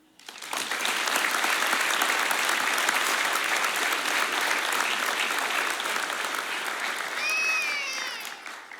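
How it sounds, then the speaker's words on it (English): Sustained audience applause at an academy graduation ceremony, a dense wash of many hands clapping that swells quickly and holds steady, with a brief whistle-like tone near the end. "Now, the round of applause."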